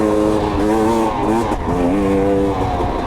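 A KTM 250 XC dirt bike engine drones steadily while riding, its close, loud tone wavering up and down with throttle changes and no talk over it.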